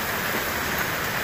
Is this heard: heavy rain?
yes